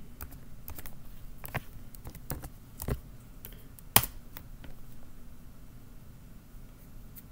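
Scattered keystrokes on a computer keyboard as a password is typed at a server login, soft irregular clicks with gaps between them and one sharper tap midway, close and quiet.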